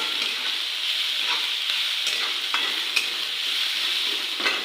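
A ground garlic, green chili and cumin paste fries in a pan for Maharashtrian pithla while a spoon stirs it. It makes a continuous bright sizzle with repeated scraping strokes, close up and with no speech.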